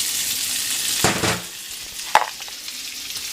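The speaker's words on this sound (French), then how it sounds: "Donc, je rajoute un morceau de beurre. Et je dépose les oignons." Small white onions sizzle in melted butter in a pan, a steady bright crackle with a louder burst and a sharp clink of a utensil part way through.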